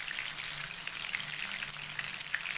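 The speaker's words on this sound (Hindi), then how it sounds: "तो बस आपने इसी तरह सारी फिश फ्राई करनी है" Fish fries in a pan with a continuous, even crackling sizzle, soft and close, with tiny pops scattered through and no voices.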